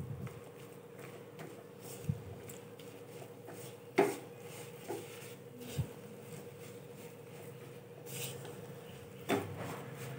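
Modak filling of jaggery is stirred in a pan over low-to-medium heat, with soft scraping and occasional light knocks of the spoon against the pan, quiet and close, and no talking.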